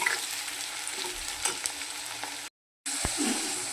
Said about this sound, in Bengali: পেঁয়াজটা একটু ভাজা হলে মশলাটা দিয়ে দেবো